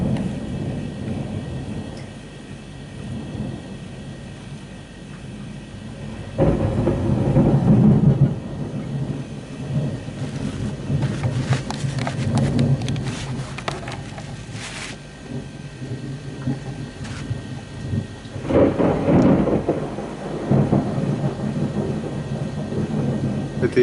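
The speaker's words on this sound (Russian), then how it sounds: "Это гроза, друзья, это гроза." Thunderstorm heard from indoors at home, with steady heavy rain and deep rolling thunder rumbling in loud waves, a strong clap swelling partway through and another later, all fairly close and continuous.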